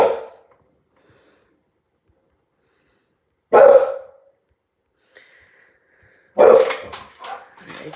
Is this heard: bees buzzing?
no